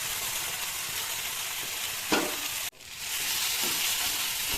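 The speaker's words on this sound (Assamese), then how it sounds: "প্ৰায় 1 মিনিটমান ভাজিলোঁ।" Ground masala paste with onions fries in a hot pan for Assamese fish cooked with raw turmeric, giving a steady close sizzle throughout, a brief louder burst midway and a sharp dip as stirring resumes.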